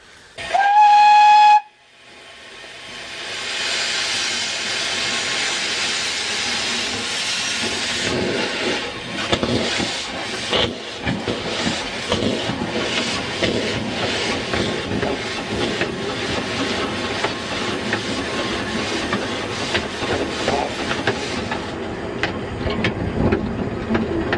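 A miniature railway steam locomotive at Windmill Farm gives a loud, sharp whistle blast, then runs on with continuous chuffing, steam hiss and rattling wagons that stay close and loud for over twenty seconds.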